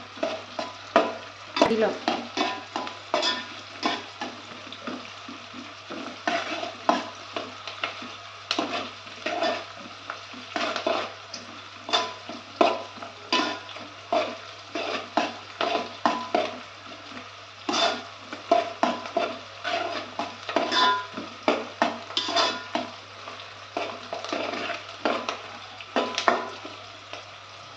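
Ingredients for Nellore fish curry sizzling in hot oil in a pan while a spoon stirs and scrapes, a steady frying hiss punctuated by frequent close clinks and scrapes, with a brief spoken word near the start.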